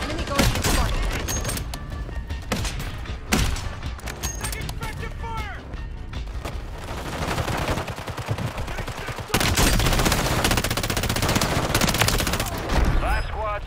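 Dense video-game gunfire crackles almost nonstop, loud and close, with rapid automatic bursts and scattered heavier shots, while voices talk over the shooting.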